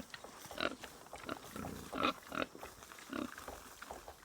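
Pigs on a farm scuffle over water, grunting and squealing in repeated short bursts, close and moderately loud, with snorts between the louder squeals.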